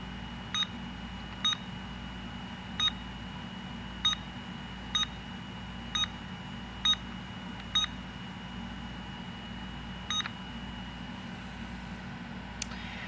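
A Honeywell Solid State System 7000 alarm keypad gives short, sharp beeps at irregular intervals, about a dozen in all, clear over a steady low hum in a quiet room.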